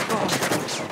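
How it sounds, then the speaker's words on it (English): A second of rapid gunfire from the Uncharted video game, a dense volley of close shots crackling without a break. "Stop shooting me!"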